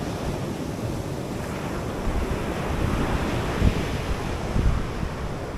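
Surf rolls in steadily at Marina Beach in Chennai, a continuous wash of breaking waves with heavy wind buffeting the microphone and a couple of slightly stronger surges.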